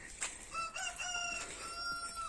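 A farm chicken on a vegetable plot with coriander sown, clucking and crowing close by in short repeated calls over faint outdoor background.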